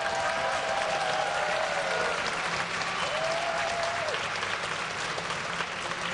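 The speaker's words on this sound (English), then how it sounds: "if you want to see them winning, guys, give them a cheer" Crowd at a League of Legends LCS EU match in Sweden cheering for Ninjas in Pyjamas: sustained loud applause and clapping, with a faint whistle-like tone running through it.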